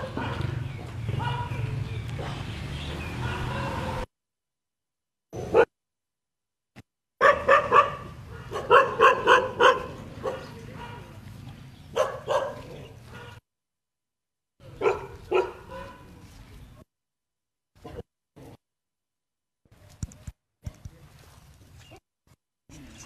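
Thai Ridgeback dogs barking at a sanctuary, with scattered bursts of barks and yips that come and go among pauses and mixed with nearby talk.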